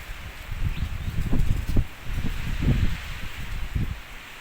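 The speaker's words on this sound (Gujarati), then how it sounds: "હવે ધીમે ધીમે પવન છે એ વધતો જાય છે અને બધો કચરો છે" Gusty wind blows steadily in a village while leaves and loose litter rustle and scrape in repeated bursts, fairly close, with no one talking.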